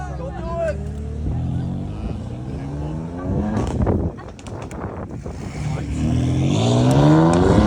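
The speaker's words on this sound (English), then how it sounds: "So we're leaving the meet now" Several cars drive off from a car meet, engines humming and revving at moderate distance with tires rolling, loudest near the end, while people talk throughout.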